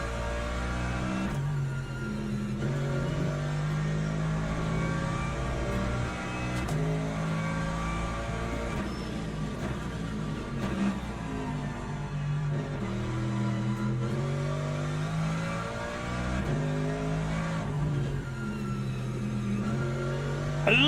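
A race car in the sim racing game Le Mans Ultimate revs hard through its gears, the engine note rising and dropping repeatedly with loud, close, continuous harmonics and shifts, without voices.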